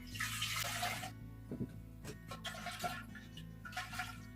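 Homemade apple and grape vinegar is poured into a container, a soft, gurgling splash of liquid heard up close and fairly quiet, with a few small knocks and drips.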